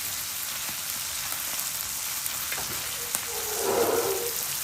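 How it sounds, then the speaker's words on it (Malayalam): Sardines shallow-frying in a pan with little oil give a steady, close hiss of sizzling that swells into a louder, crackling burst near the end. "അങ്ങനെ ഇന്ന് നമ്മുടെ ചാള വറുത്തതും ഏകദേശം റെഡിയായി."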